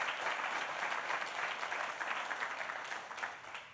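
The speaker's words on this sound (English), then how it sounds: "Let's give him a round of applause and thank him very much" Steady audience applause fills a large indoor venue at the opening of a new airport concourse, a dense wash of many hands clapping continuously at moderate volume without pause or speech.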